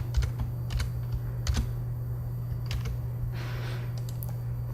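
Typing on a computer keyboard while entering a new folder name during project setup, a steady run of light clicking keystrokes with a few louder taps over a constant low hum.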